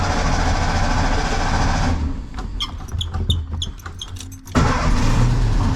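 A 1957 VW Bug engine cranks and catches, running loud and close with a steady rumble, dipping briefly with a string of sharp clicks before surging back to full running.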